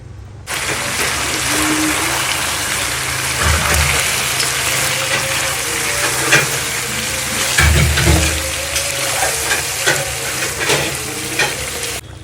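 Marinated chicken fries in oil in a wok with a continuous crackling sizzle, close by, broken by occasional louder bursts and scraping stirs, with no voices.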